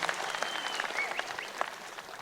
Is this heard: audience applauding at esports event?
yes